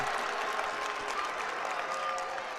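Basketball crowd in a district playoff game, Waverly fans against New Lexington, cheering and applauding steadily in a packed gym, dense and loud throughout.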